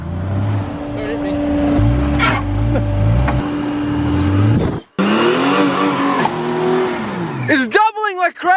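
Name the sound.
car revving and spinning wheels, diff filled with glass shards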